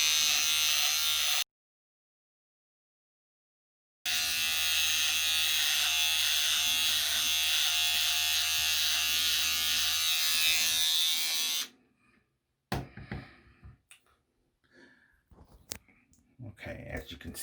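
Andis Slimline Ion cordless electric shaver running close by with a loud steady buzz, cut off briefly, then resuming for several seconds before stopping, followed by sparse clicks and handling noises.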